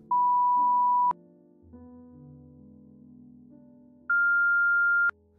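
Synthesized pure sine tone played as two separate one-second beeps, the second pitched noticeably higher than the first, each starting and stopping abruptly with a click, over a faint low background hum.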